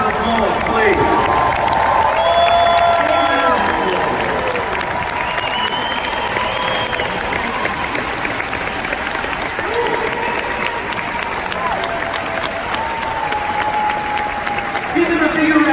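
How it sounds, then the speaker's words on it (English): A large audience at a global convention gives loud, sustained applause with scattered cheers for first-time associates who have stood up, with a crowd roar underneath and a voice speaking over it. "Let's give them a nice round of applause, please."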